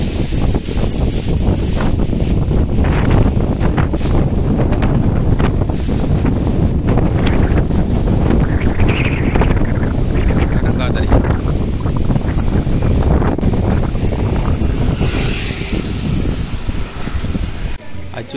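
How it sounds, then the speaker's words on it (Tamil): Strong cyclone wind roaring and buffeting against the microphone, a loud continuous rumble with gusty surges throughout, voices faintly mixed in. "இது ஓ சரியான காற்று அடிக்குது"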